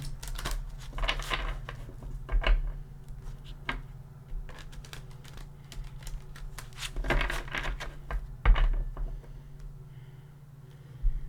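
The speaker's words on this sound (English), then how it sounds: "Give it a shuffle or two." Tarot cards are shuffled by hand at close range: soft riffling bursts and crisp flicks and taps of the deck, irregular and intermittent over a low steady room hum, with no talking.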